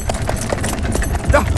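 Horse hooves clip-clop at a steady trot, close and fairly loud, with a voice speaking over them in a comedy scene.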